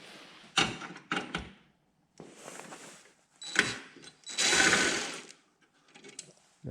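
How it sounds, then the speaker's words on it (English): A screw is worked loose from an electric stove during an element repair, giving close mechanical clicks, scrapes and rattling metal handling in uneven bursts with short pauses between. "And I'm going to remove this screw."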